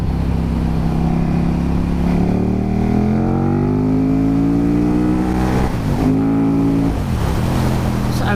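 A KTM Superduke 1290 R motorcycle accelerating as the throttle opens, with a loud, steady engine note rising in pitch over several seconds and a brief dip near the end, with no voices.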